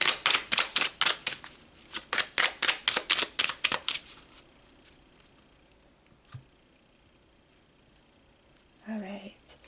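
Tarot cards being shuffled and pulled, a quick run of crisp riffling flicks for about four seconds, then near silence with a single soft tap and a brief voice at the end.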